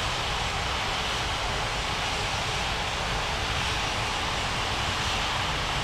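An airliner engine in a flight simulator game roars steadily at takeoff power, a loud, continuous broadband rumble and whine holding level without breaks, with no voices over it.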